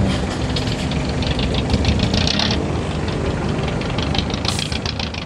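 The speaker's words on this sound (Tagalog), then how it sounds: "TRD Racing 5K yung makina." A TRD Racing 5K engine idles in an owner-type jeep, a steady loud rumble with a rough knocking texture running throughout.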